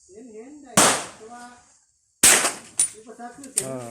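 A CZ 457 rifle fires at a 2.5-inch steel plate 100 m away from a bipod, giving two sharp cracks with short ringing tails. Someone speaks between the shots.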